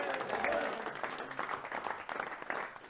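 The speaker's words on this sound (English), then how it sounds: "Can you give the Lord a clap for that?" A large crowd at an open-air prayer meeting in the Western Province claps for the Lord, with dense applause sustained throughout and mixed with voices and cheering.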